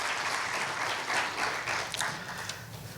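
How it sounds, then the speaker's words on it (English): A graduation-day audience applauds with a sustained, dense round of clapping that stays steady and fairly close throughout, with a few sharper individual claps standing out near the end. "I want to give one more time a round of applause to all those extracurricular sports and other people."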